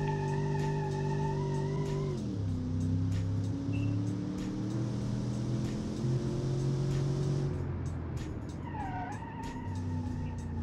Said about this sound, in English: Front tires are squealing so hard.